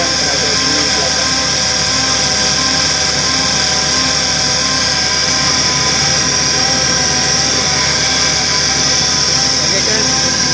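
A line boring machine turned by a rear-mounted air motor gives off a steady, loud, broadband whir and hiss with constant machine drone running evenly throughout.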